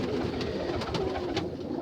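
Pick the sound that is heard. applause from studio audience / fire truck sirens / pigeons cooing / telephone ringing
pigeons cooing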